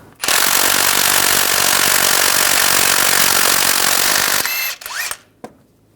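A power impact tool hammers at a 24mm crankshaft pulley bolt on a 2007-2014 Cadillac Escalade 6.2L V8, a loud continuous rattling burst for about four seconds before cutting off, followed by a few short clanks.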